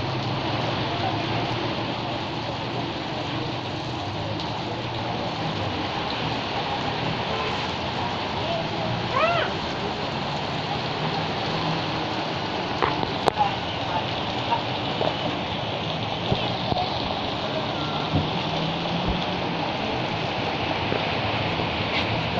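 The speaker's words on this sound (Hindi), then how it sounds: "बहुत तेज बारिश है" Heavy rain pours in a steady, dense hiss for the whole stretch, constant and loud, with a few faint taps and thin background sounds.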